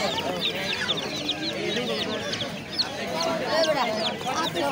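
Chickens clucking and squawking at a poultry market, a dense, continuous chorus of many birds close by, with a voice talking beneath the noise.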